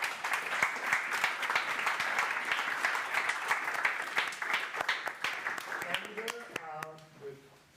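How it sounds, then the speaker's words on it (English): Audience applause fills a community career-talk evening, steady dense clapping from the crowd for several seconds before thinning out as a voice begins speaking near the end. "And a big round of applause"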